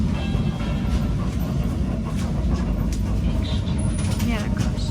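A passenger train in snowy Latvia slows down, heard from inside the carriage as a loud, steady rumble with faint rhythmic clatter of the wheels throughout.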